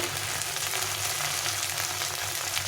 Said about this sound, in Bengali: দিয়ে এটাকে এখন আবার একটু ভেজে নেব ভালো করে কষিয়ে নিতে হবে